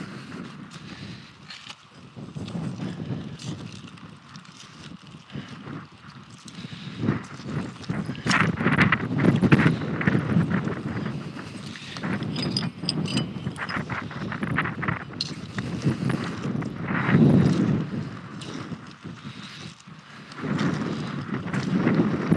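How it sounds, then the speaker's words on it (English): Strong wind rumbles and gusts against the microphone on a riverbank while mudlarking, swelling and easing in waves for a long stretch without any talking. "It's really windy today."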